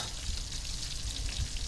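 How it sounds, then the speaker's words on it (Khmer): Ripe tamarind being stirred with fish sauce and sugar in a pot gives a soft, steady sizzling hiss, faint and continuous, without talk. "ហើយយើងកូរអំពិលទុំជាមួយទឹកត្រីស្ករសហ្នឹងឲ្យចូលគ្នា"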